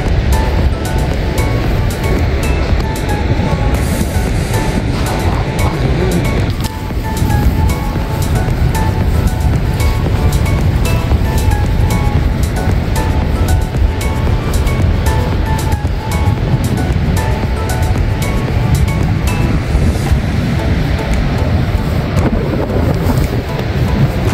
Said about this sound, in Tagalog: Kaprisko ng hangin dito sa ibabaw ng dagat